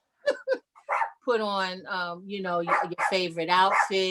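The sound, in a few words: dog barking in the background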